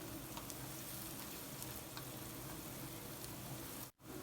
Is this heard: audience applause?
no